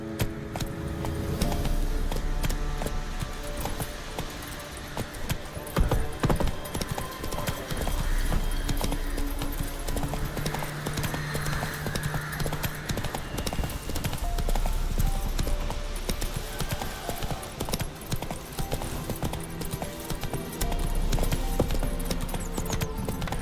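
Roach, a horse in The Witcher 3, galloping with a rapid, steady clip-clop of hooves, loud and close, alongside jingling tack and a brief whinny, with no talk.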